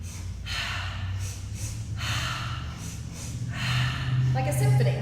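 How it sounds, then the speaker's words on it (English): Short sharp sniffing breaths repeat in pulses during a mat Pilates exercise, a breathy rhythmic series of nasal inhales close to the listener. "Symphony of breath. Yeah, the Pilates breathing."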